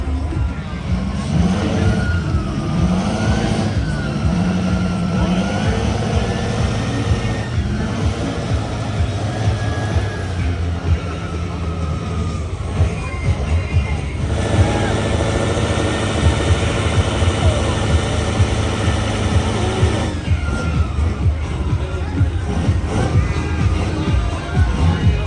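JH Diesel Mega Truck 2.0 roaring steadily at full load during a truck pull, a loud sustained diesel drone with shifting pitch and crowd noise underneath throughout.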